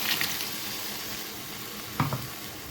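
Water poured onto masala frying in a pan, a steady soft sizzle with a sharp hiss and splash near the end, heard close up with no talking.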